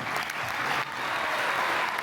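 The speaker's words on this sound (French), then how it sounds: "On peut les applaudir, on leur passera le mot." An audience applauds at a live comedy stage show, a dense, steady wash of hand clapping that stays loud and close throughout, with a brief dip partway before it swells again.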